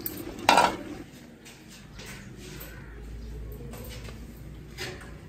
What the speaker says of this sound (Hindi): अभी जो है बर्तन उठाते हैं साग बनाने के लिए